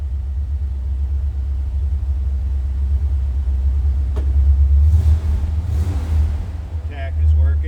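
A 1945 Willys MB jeep engine starts from cold, then settles into a low, steady rumbling idle close by. Someone talks over it.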